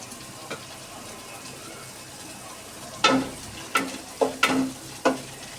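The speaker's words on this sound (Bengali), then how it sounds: "শুকনো মরিচটাকে আমি টেলে নিব একদম সুন্দর করে।" Dry red chillies roast in a pan with a soft steady sizzle, then several sharp clacks and scrapes as they are stirred, close and clear, no voices.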